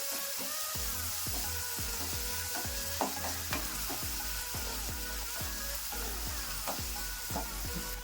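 Chopped onions sizzle in a hot pan with garlic, a steady frying hiss broken by regular scraping strokes of a spatula stirring them, close and clear with no voices.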